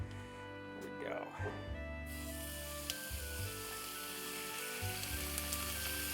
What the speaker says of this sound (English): I've got my beef searing